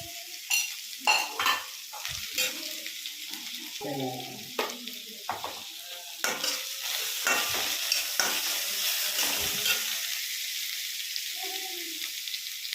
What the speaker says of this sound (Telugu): ఉల్లిపాయ అయ్యేటప్పుడు కొంచెం సాల్ట్ పసుపు వేస్తే తొందరగా వేగుతుంది